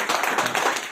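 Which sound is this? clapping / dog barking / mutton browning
clapping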